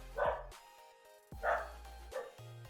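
Three separate dog barks sound at a moderate distance indoors, spaced roughly a second apart, with quiet gaps between them and no one talking.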